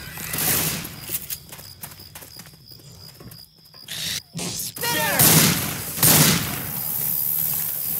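Left 4 Dead 2 gunfire on the Dark Carnival campaign crackles in bursts of sharp shots amid chaotic game noise, with clattering weapon mechanisms and a reload near the end.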